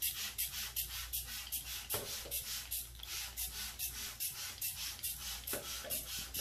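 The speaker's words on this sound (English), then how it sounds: "I'm gonna use another spray bottle, just pure water, clear water" Rapid, repeated spritzes of clear water from a trigger spray bottle rinsing a dining light fixture, each a short hissing burst in a quick steady rhythm, close by and fairly quiet.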